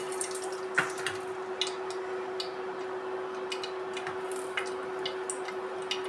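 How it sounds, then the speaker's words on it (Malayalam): Mustard seeds splutter in hot oil, small crackles and ticks popping irregularly and close by over a steady low hum. "കടുക് പൊട്ടിച്ചെടുക്കാം"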